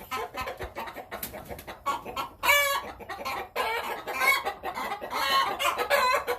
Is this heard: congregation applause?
no